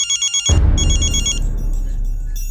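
A telephone ring tone pulses in short repeated beeps, then cuts off into a low rumbling background while calling a landlord.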